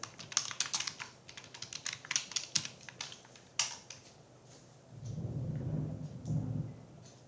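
Keys clatter on a computer keyboard in quick, uneven bursts of close, crisp clicks, then give way to a low rumbling hum near the end.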